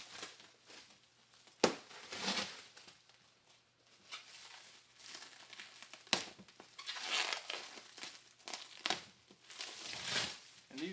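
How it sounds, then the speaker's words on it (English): Bubble wrap and packing material pulled from boxes, with crinkling, rustling and sharp crackling bursts in irregular clusters, close and fairly quiet, with occasional louder snaps. "I really wrapped this stuff up good to try to prevent as little damage as possible to it. It's also got some bubble wrapping underneath it."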